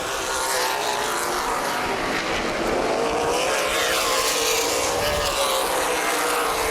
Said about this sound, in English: A bad restart for the 811 Know Where You Drill car of Mason Mingus.